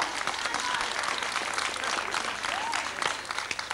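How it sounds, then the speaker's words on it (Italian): Steady audience applause at a 1997 carnival masquerade performance in Ceppaloni, a dense wash of clapping from a crowd with a faint whistle or squeak briefly rising through it. "un applauso"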